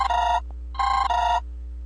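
An incoming call rings on an Android emulator as two electronic ringtone bursts, each with a bright warbling double tone, close and clear over a low steady hum.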